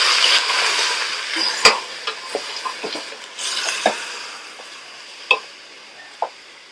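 Chicken gravy sizzles in a pan while it is stirred, with a soft frying hiss under scattered sharp spoon taps and scrapes that fade toward a quieter end.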